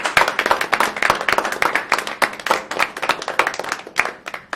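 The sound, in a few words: audience applause at board meeting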